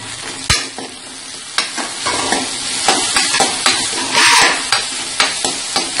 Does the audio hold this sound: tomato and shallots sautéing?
yes